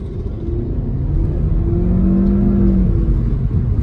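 A Chery Arrizo 6 with a turbo engine in sport mode and sequential manual shifting accelerates in traffic, its engine note rising into a steady, close, droning hum for a few seconds.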